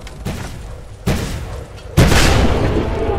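Three heavy booming blasts from an anti-tank weapon firing in a Roblox game, spaced about a second apart, each louder than the last and trailing off with a rumble.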